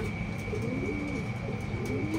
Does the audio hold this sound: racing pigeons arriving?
yes